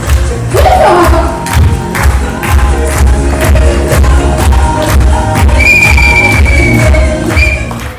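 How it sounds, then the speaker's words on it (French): A loud crowd at a France–Belgium improv match applauds and cheers the teams, with whistles, stomping thuds and shouts over a continuous roar of clapping. "On peut encore applaudir très fort, mesdames et messieurs. Plus fort encore."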